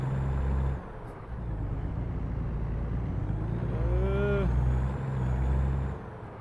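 A truck in American Truck Simulator hisses its air brake, then its diesel engine cranks and settles into a low idling rumble, with a brief rising whine partway through.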